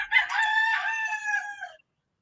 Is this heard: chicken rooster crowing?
yes